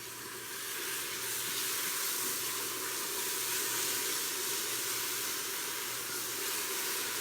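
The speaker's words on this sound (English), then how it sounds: "onion's going in, be careful. It has moisture, it's gonna sizzle." Onions sizzle loudly in a hot Instant Pot, a bright, steady hiss that swells at the start and holds close and unbroken.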